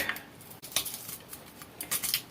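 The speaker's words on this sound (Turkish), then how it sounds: "kapya biberleri doğruyoruz" Light, irregular tapping and clicking of a knife chopping red peppers on a cutting board, quiet and close, with small sharp impacts scattered throughout.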